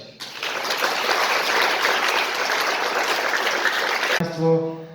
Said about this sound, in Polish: Wielkie brawa, Hubert Kostka.